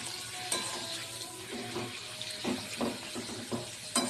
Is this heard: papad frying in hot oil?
yes